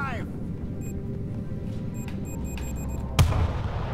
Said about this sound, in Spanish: Pongo una brecha aquí, ¿vale? Vale. Sal de ahí, que explota.